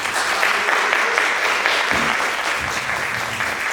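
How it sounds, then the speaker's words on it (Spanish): Audience at a panel on animal law applauding, a dense, steady wash of clapping from many hands that holds loud and even throughout. "Un aplauso muy fuerte, por favor."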